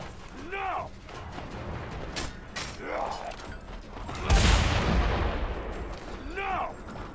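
Gunfire in the Mad Max video game: a single heavy blast stands out among repeated metallic creaks and mechanical clanks, moderately loud, with no one talking.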